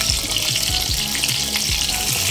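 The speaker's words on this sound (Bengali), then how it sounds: "মিডিয়াম লো ফ্লেমেই মাছগুলো ভেজে নিতে হবে" Rohu fish belly pieces fry in oil over a medium-low flame with a loud, dense, constant sizzle and crackle, close up, and a few soft low bumps underneath.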